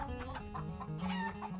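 A big red hen clucks close by in a quick run of short, throaty calls, with no talking over it.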